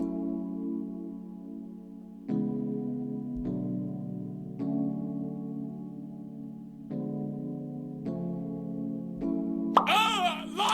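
Synth chords of an R&B beat built on an augmented chord, each block of sound starting abruptly and sustaining before the next change. Several chord changes follow one another, with a brighter burst near the end.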